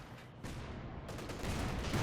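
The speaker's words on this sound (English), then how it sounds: "Mortar around here, trying to sort of hit where he's expecting his opponent to mass up" Mortar fire in Company of Heroes 2 rumbles as a dense, steady wall of distant booms and battle noise. It grows slightly louder partway through, and nobody speaks over it.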